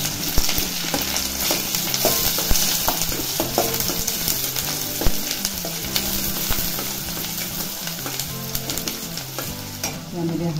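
Chopped onion frying in a pan with cumin and finely chopped garlic, a loud, steady close sizzle with continuous crackle and occasional stirring scrapes.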